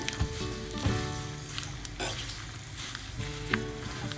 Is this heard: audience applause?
no